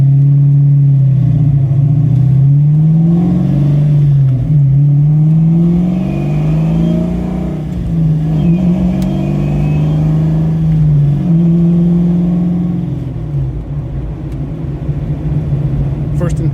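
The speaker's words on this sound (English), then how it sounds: "So we're ready to go for a test drive." A Fox Body Mustang with a Tremec TKX transmission is heard from inside on a test drive, its engine a loud, steady low drone that rises and falls in pitch through gear changes, with speech over parts of it.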